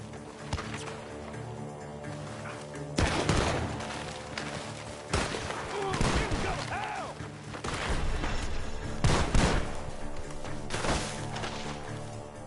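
Gunfire from Red Dead Redemption 2 crackles over a music score, sharp shots and bursts scattered throughout, loud and close, mixed with crashing impacts.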